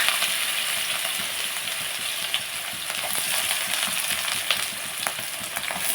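Green chilies and onions sizzle steadily in hot oil for an okra curry, a dense continuous frying crackle with occasional sharper pops and clinks, close and with no voices.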